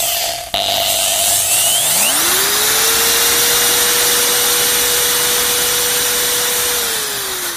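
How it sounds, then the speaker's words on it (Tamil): A power drill bores into the side of the stone Sphinx statue in Egypt, a loud steady motor whine that climbs in pitch after a short start and then holds, close and unbroken. "ஸ்பிங்ஸ் சிலைக்கு பக்கவாட்டில் உள்ளே போகிறதுக்காக ட்ரில்லிங் பண்ணுறாரு"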